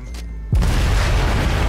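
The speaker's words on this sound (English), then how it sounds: "Explosion!" Explosion in the Cyberpunk 2077 video game, one sudden heavy boom that breaks a quiet moment and rolls on into a loud, rumbling roar of debris.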